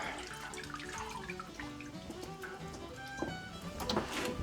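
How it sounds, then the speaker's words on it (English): A boiled plum pudding in its cloth is set into cold water to cool, with steady close sloshing, trickling and dripping of water in a basin, continuous and fairly loud throughout. "we're going to put this in cold water here just to cool it off"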